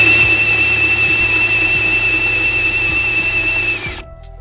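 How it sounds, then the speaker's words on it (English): A drill spins the oil pump of a 1997 Chevy 350 5.7L Vortec engine, a steady high whine with a faint periodic thump, close and loud, cutting off at the end. "we're just reaching down in there and spinning the oil pump"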